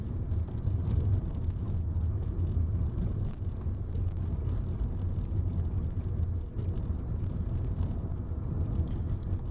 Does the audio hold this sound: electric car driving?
yes